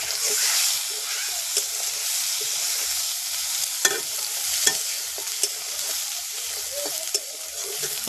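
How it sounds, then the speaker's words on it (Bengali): Soybean chunks frying in a pan give a steady, bright sizzle that runs alone through the whole stretch, broken by a few sharp clicks of stirring utensils. "সয়াবিন ভাজা করছি"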